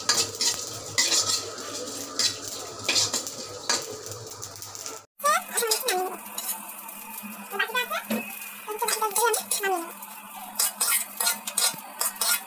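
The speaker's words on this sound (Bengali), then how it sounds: "একটু মশলাগুলো আমি একটু ভেজে নেব আজকে" Whole spices being dry-fried and stirred in a pan for a sonali chicken curry, repeated scraping and clinking of a metal spoon over a faint sizzle, close up, with a brief cut midway and no talk over it.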